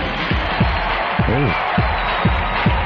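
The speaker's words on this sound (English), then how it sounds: "And the crowd goes wild." A Miss Universe pageant crowd roars for the contestant from Brazil, a broad steady wash of cheering with low thumping beneath, heard over a muffled broadcast.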